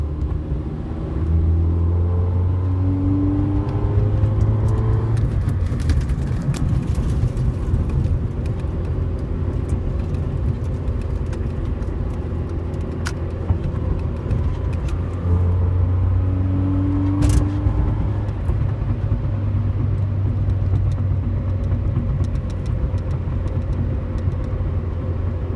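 A 2005 Honda Civic EM2 engine with a Y8 intake manifold drones steadily as it revs and crosses over into VTEC, its tone shifting upward during acceleration around five and seventeen seconds, heard up close with no talk.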